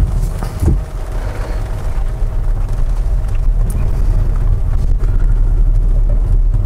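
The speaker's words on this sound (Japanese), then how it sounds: "こちらの河川敷のところの悪路走行ですね。" Honda Vezel e:HEV PLaY SUV driving a rough riverbank track in the rain, heard as a steady, loud low rumble of road and cabin noise with faint patter and thumps throughout.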